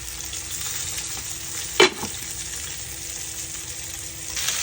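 Bottle gourd frying in a pan, a steady loud sizzle that runs throughout with one brief stirring clatter partway through.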